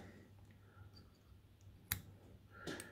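Scissors snip thread once, sharp and close, while a bucktail streamer fly is tied, with a second, softer click following in a quiet room.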